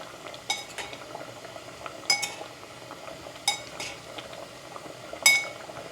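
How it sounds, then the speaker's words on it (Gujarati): A spoon stirs cauliflower curry (phool gobi shaak) in a metal pot, giving four sharp clinks against the rim at irregular intervals over a low, steady kitchen background. "અને ફૂલકોબીનું શાક પણ આપણે રેડી થવાનું છે, તો આપણે એને મિક્સ કરી દઈએ."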